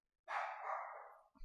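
A single drawn-out dog bark sounds fairly faint and alone, with a quiet thump right after it.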